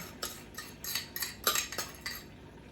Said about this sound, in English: I'm going to stir that in there